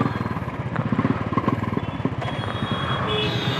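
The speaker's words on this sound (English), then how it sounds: "Exhaust sunna bhi naya dala." A motorcycle fitted with a new aftermarket exhaust revs nearby, its rapid throbbing pulses rising and falling, then settling into a steadier roar toward the end, with no talking.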